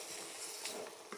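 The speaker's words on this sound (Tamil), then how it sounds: "சின்ன வெங்காயம், தக்காளி, கருவேப்பிலை, கொத்தமல்லி, உப்பு அதெல்லாம் போட்டு கிளற போகிறோம்" Small onions, tomato, curry leaves, coriander and salt are stirred in a frying pan for a chicken masala, giving a soft sizzle with scraping spoon strokes against the pan, close and quiet without speech.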